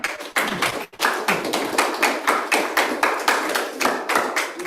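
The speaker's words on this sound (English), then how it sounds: "So please clap." Steady rhythmic clapping from an audience at a devotional Bhagavat Saptaham gathering, dense broadband claps repeating in a regular beat for several seconds with a brief break near the start.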